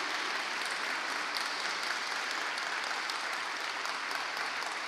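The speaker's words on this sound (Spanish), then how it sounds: "Dele un fuerte aplauso al Señor por sus pastores" A church congregation gives a strong, dense round of applause that holds steady and even throughout, with no break and no distinct voices.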